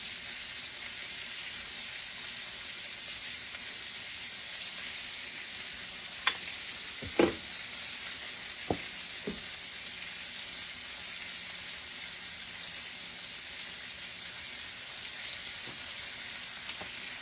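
Zucchini sautéing in a pan with olive oil and butter, a soft, steady sizzle heard throughout with a few sharp clicks and taps from a utensil partway through; no talking.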